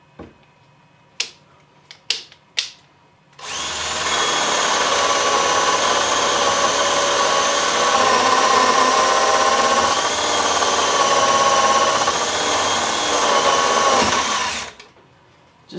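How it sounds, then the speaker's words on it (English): A few sharp clicks, then a Festool CXS cordless drill whirs steadily for about eleven seconds while boring a hole before spinning down. Close and loud, with no speech. "I can pretty much just plant it here and drill."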